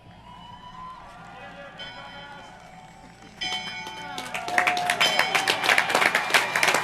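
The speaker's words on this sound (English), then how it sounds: "Mrs. Elam, please ring the bell." A bell rings at a high school commencement ceremony, starting with a few clear strikes and building into rapid, loud, continuous ringing as the crowd applauds.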